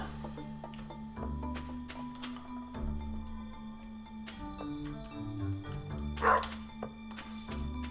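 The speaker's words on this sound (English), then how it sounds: "Is a dog gonna bark all day again today?" A dog in the game Stardew Valley barks repeatedly in short, regular woofs over soft background game music and ticking sounds, moderately loud and steady throughout.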